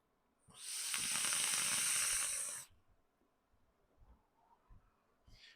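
A vape coil fires on a Noisy Cricket mod with a steady, bright sizzling hiss for about two seconds, close and fairly loud, then stops, leaving faint low rustles and handling sounds.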